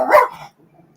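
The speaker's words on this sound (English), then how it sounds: "Sorry about my dog" A dog barks once, close and loud, then a quieter yip or whimper trails off into near silence indoors.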